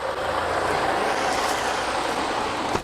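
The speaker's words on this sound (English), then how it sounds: "Push in the trailer brake supply button." Air rushes steadily from a semi truck's trailer brake supply as the button is pushed in, a continuous loud hiss heard up close over the idling tractor.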